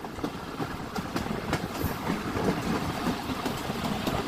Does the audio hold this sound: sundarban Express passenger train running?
yes